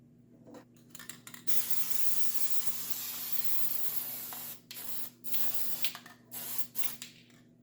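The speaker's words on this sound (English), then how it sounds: "The Schluter spray adhesive." Schluter spray adhesive hisses from a can in a steady burst of a few seconds, then in several shorter spurts, close to the microphone against a low background hum.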